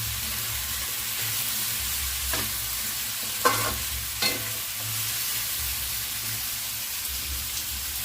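Vegetables for pinakbet, a Filipino vegetable stew, sautéing in a pan: a steady, close sizzle with a few sharp stirring scrapes and clanks, no voices.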